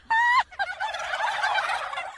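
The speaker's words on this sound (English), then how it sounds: "Turkeys, the underrated farm comedians." A farm turkey gobbles loudly once in a short, rapid warbling burst, followed by a noisier rattling gobble that trails off, with no talking.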